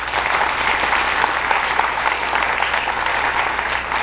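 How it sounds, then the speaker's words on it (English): An audience at a school Academy of Finance breakfast gives sustained applause, a loud, dense, even roar of many hands clapping at once with no break. "Give them a round of applause."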